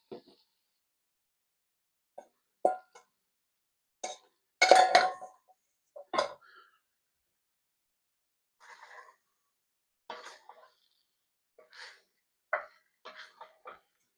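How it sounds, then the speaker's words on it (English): Potatoes being added to a pot of hearty beef stew, heard as scattered, quiet clunks and knocks against the pot with long silences between them and a few faint voice-like sounds. "we are going to go ahead and add our potatoes"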